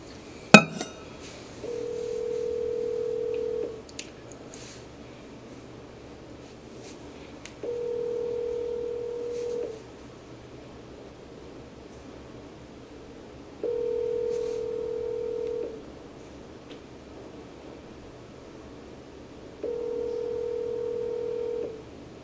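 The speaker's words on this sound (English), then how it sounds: "Calling Dylan on speaker." An outgoing phone call rings on speakerphone, four evenly spaced ringback tones about two seconds long with long gaps, preceded by a sharp click, over faint room noise and light clatter.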